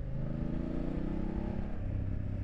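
A 2023 BMW F850 GS Adventure TE motorcycle engine runs steadily while riding in fourth gear at about 30 mph, a continuous close drone with a low rumble and no talk.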